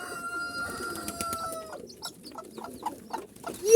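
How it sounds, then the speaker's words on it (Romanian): Soft, scattered clucks from a mother hen with chicks and short bird calls come in irregular bursts, fairly near, with faint chick peeping over a quiet background. "Uite pe cloșca mama pui."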